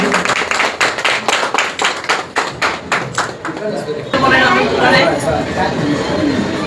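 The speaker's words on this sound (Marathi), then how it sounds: "गरबा खेळताना कसा टाळ्याला जोर येतो तसा आला पाहिजे." A crowd at a Ganesh Krida Mandal golden jubilee function claps in a strong, even rhythm like garba clapping, then breaks into looser, louder applause mixed with chatter.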